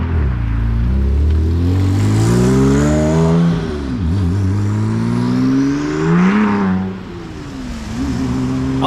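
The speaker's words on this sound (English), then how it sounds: "Still get lots of whistle noise. Turbo whistle, that is." A custom-exhausted Porsche 997 911 Turbo accelerates hard through several gears, loud and close, with rising and falling engine tones at each shift and a high turbo whistle over the top.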